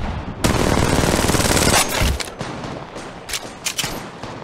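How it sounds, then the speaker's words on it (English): Automatic gunfire in Apex Legends Mobile rips out in one loud, continuous burst of about a second and a half, followed by a few sharp, scattered single shots and quieter rattling. "Shots fired."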